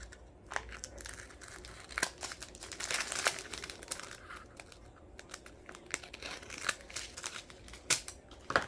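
Scissors snip through a plastic diamond art drill bag and its crinkly packaging, giving close, quiet bursts of crumpling and crisp cuts in an irregular rhythm.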